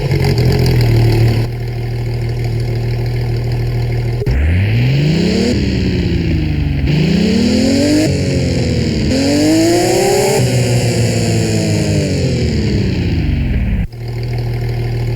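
A Porsche 911 GT3 RS engine in a driving video game cranks and fires, then idles, with several sharp rev blips rising and falling before it cuts off abruptly; loud and close, with no talking.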